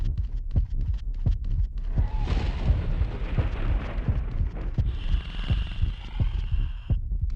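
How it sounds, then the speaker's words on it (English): In a boss fight of the PS2 hack-and-slash game Maximo, a deep pounding heartbeat thumps steadily and loudly throughout, layered with rumbling effects and a brief ringing tone, with no music. "There's no music, but there's a pounding heartbeat the whole time."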